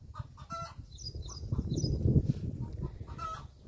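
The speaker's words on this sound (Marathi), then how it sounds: "कॉक कॉक कॉक अंडे घातले असेल कोंबडीने." Hens cluck repeatedly after laying an egg, a close, busy run of cackling calls with some higher squawks over a low farmyard rumble.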